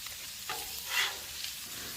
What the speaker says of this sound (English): just get that one over the butter and let it fry up again